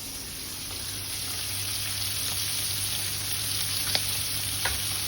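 Pomfret fish fries in a pan with a steady, close hiss and sizzle that runs the whole time, and a few faint clicks and taps sound over it.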